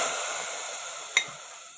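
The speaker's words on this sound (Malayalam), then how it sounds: "നമുക്കിത് കറിയിലോട്ട് ഒഴിച്ചു കൊടുക്കാം." Hot coconut-oil tempering poured into erissery curry in a pan, giving a steady faint sizzling hiss with a brief louder crackle burst partway through, alone without talk.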